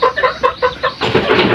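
Native backyard chickens crossed with pulo stock cluck close by, a quick run of about six sharp rhythmic clucks followed by a rougher, denser burst of calls.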